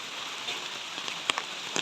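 Soft, steady patter of light rain with a few scattered drops standing out, fairly quiet, outdoors at Sapteshwar Temple in Sangameshwar beside a pond.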